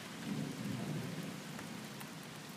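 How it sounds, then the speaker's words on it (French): Faint, steady rain and hail pattering with a low rumbling undertone of distant thunder from a strong multicell thunderstorm in Amboise, France, continuous and unbroken, no voices. "il y a de la grêle et de la pluie, là, ça commence à tomber."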